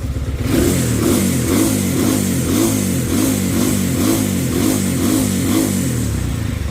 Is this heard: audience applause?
no